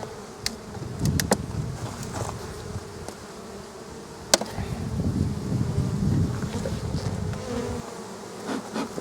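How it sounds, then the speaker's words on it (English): Honey bees buzzing around an open hive during an inspection, a steady swarming drone close to the microphone, with a few sharp clicks and light wind noise. "That's a small little bee."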